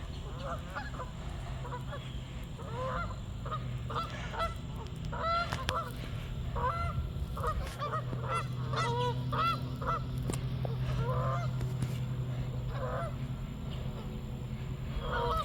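A flock of Canada geese honks continuously, many overlapping calls at close range over a steady low rumble.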